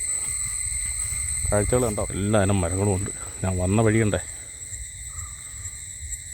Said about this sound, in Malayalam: ചീവീടുകളുടെയും കിളികളുടെയും ഒക്കെ ശബ്ദം